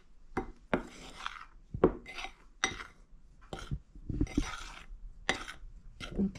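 Nutmeg, cinnamon and allspice are mixed into flour for a Barbados pound cake, giving short, quiet bursts of scraping and rubbing against a bowl with brief pauses between strokes.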